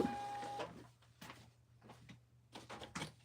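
Small printer in a home fabric-cutting and order-packing workspace, quietly printing with short mechanical whirs and clicks in uneven bursts over a low steady hum.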